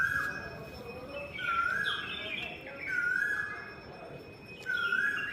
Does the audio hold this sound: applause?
no